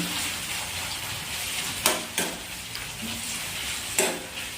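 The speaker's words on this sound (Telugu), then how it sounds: "సో చికెన్ నేను ఫ్రై చేస్తున్నాను" Chicken fries in a pan with a steady, close hiss of sizzling oil, broken by a few louder scraping stirs and clinks of a utensil.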